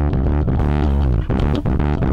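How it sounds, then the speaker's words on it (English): A bass guitar run through a Metasonix RK3 shaper/ringer module, played as a dense, continuous stream of heavily distorted, buzzy low notes with gritty harmonics and no pauses. "nice distortion."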